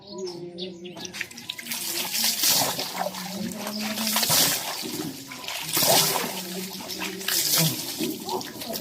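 Water pours and splashes continuously during an outdoor bath at a military battalion bathing area, with voices talking over it and birds faintly audible.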